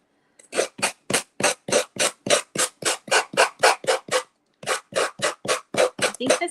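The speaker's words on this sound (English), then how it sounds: "Probably good that I just changed my sander." Rhythmic rasping strokes of a sander on a paper craft, about twenty even passes in a steady back-and-forth rhythm with one brief pause, close and fairly loud, no talk.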